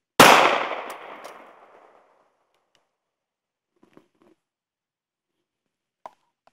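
A single loud pistol shot at a shooting range cracks out and rings away over about two seconds, followed by a few faint clicks.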